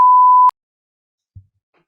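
A single loud, flat electronic censor tone lasts about half a second and ends abruptly, followed by near silence and a short soft thump.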